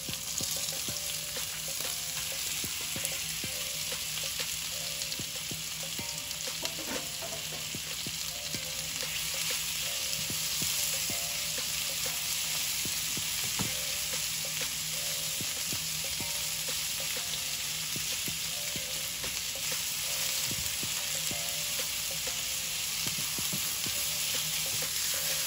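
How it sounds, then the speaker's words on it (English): Shrimp fry in olive oil for pepper pot curry, a steady, moderately quiet sizzle with scattered crackles and occasional scrapes of stirring, running on without voices. "I'm gonna add a little bit of olive oil. I'm gonna go ahead and add my shrimp."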